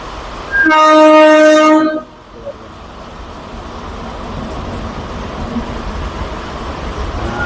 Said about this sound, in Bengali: বর্ধমান লোকাল জনাই রোড স্টেশন ক্রস করছে